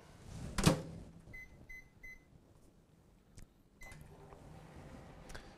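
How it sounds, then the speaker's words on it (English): A kitchen microwave oven on full power, melting chocolate, gives a loud thump followed by a series of short electronic beeps, then a softer low hum with faint clicks and another beep. "So into the microwave again. I'll start, with a bit longer, something like 40 seconds on full power"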